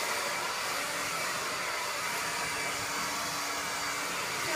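A John Frieda Full Volume hair dryer blows continuously at full power, a loud, steady broadband whoosh with a faint motor whine, running alone without any talking.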